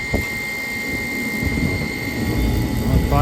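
A gas furnace starting up, its inducer motor whirring as the burner fires, giving a steady, loud broadband roar with a constant whine that grows slightly louder toward the end.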